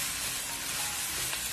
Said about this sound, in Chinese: 炒豆芽我们一定要开大火给它爆炒